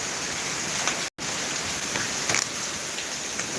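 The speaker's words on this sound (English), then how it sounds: "I like this rain right here." Steady rain falls just off a porch, a soft continuous hiss with faint scattered drips, heard alone at moderate level with a brief dropout.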